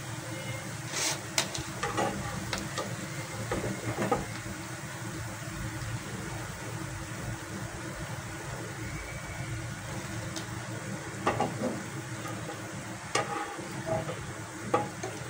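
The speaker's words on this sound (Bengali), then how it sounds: "তাহলে আমি সবগুলি পিঠা ভেজে নিচ্ছি" Pitha made of palm fruit pulp and semolina frying in hot oil, giving a steady bubbling sizzle with occasional louder crackles and faint utensil clinks throughout.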